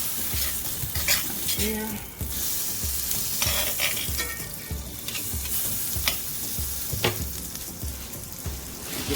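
Bread slices toast in a hot cast iron skillet on a stovetop, a steady close sizzle with regular ticking pulses and occasional utensil scrapes, and a brief spoken word.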